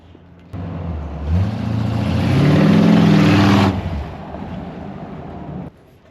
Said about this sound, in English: Truck's kind of loud, isn't it?